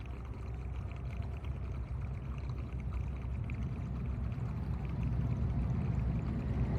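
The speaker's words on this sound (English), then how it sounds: "filling up jerry cans, mixing fuel grades" Fuel pours through a funnel into jerry cans in the Russian countryside for a Lamborghini, a continuous splashing, gurgling stream heard up close at fairly low level that builds slightly toward the end, with no talking.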